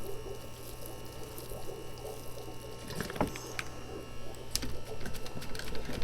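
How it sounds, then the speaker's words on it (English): Water poured from a small bucket onto a potted plant to settle the soil, a soft splashing and trickling with a few sharper splashes and faint background hum. "What I'm going to do is give this a drink to settle down the soil."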